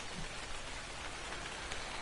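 Rain falls steadily in the survival video game Ark, a soft, even hiss of drops on surfaces heard alone at low volume throughout.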